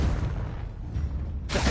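A Confringo fire spell detonating in the video game Hogwarts Legacy: a close, heavy boom that fades into a rumbling tail, with a second sharp blast starting just before the end.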